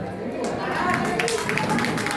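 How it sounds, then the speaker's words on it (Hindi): Audience at an Independence Day (15 August) Hindu Mahasabha programme in India claps steadily after being asked for loud applause, a dense continuous patter of many hands filling the space with a busy crowd murmur underneath. "आप सब को एक प्रार्थना करता हूँ, इस प्रोग्राम के महत्व को देखते हुए आप अपने लिए कृपया जोरदार ताली बजाएं"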